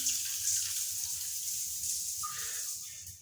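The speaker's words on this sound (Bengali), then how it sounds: "এই যে দেখতে পাচ্ছেন কত সুন্দর পানি পড়তেছে।" A bathroom shower runs with a steady, soft hiss of falling water, close and continuous for a few seconds with no talking.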